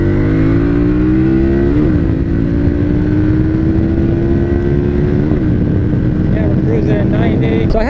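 A Harley-Davidson Street Rod 750 accelerates onto the freeway, its loud close engine note rising steadily through the gears with a brief shift dip, under constant wind roar.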